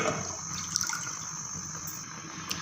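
Water pours into a pan of hot oil and milk while making zarda sweet rice, a short faint steady splash and hiss with no talk.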